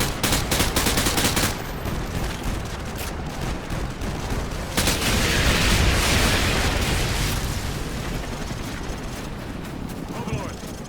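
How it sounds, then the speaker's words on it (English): Artillery strike in Call of Duty Modern Warfare 2, a rolling barrage of heavy booms and blasts with crackling gunfire, loud and continuous, with radio voices talking over it. "Artillery inbound."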